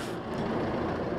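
A tractor rumbles past on a forest track with a steady broadband engine drone, fairly faint and constant, no talking.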